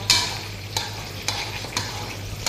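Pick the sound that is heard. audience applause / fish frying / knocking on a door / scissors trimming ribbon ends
fish frying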